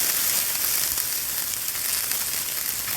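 Jalapenos frying in hot oil in a cast iron bowl give off a steady, loud, dense sizzle that holds unbroken throughout.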